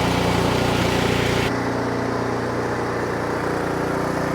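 An Ariens snowblower engine, cold-started by pulling the cord, runs loud and steady close by, then drops abruptly to a lower, quieter idle partway through.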